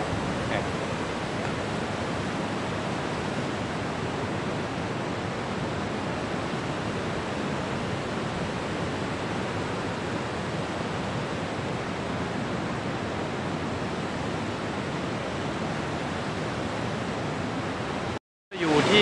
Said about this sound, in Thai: อยู่ที่น้ำตก